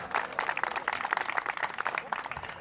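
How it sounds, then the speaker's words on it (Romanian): A small crowd applauds at a county football association awards ceremony, with quick uneven claps that swell and dip, moderately distant and fairly faint, and no talk over them. "Aplauze!"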